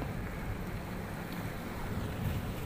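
Steady wind and lapping waves at a boat landing dock in Centro, Placer, Masbate, a continuous broadband rush with no voices.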